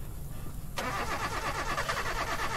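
A car in the horror game They Are Here cranks over with a mechanical churning rattle that starts abruptly and keeps grinding steadily without catching.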